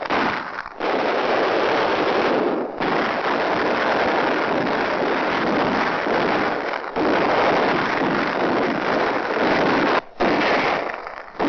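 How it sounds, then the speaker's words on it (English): Sustained, dense gunfire and mortar fire from 1943 WWII combat footage roars continuously at close range, with heavy blasts and crackling bursts filling the scene and only brief gaps. "Constant, devastating mortar fire."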